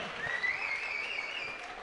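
Thin, scattered applause from an audience at a games closing ceremony medal presentation for bocce pairs, soft and brief with a faint whistle-like tone over it.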